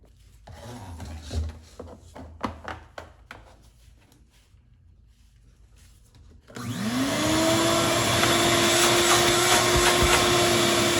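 A free, previously broken shop vacuum starts after scattered clunks and rubbing, its motor rising quickly into a loud, steady whine and roar that continues to the end.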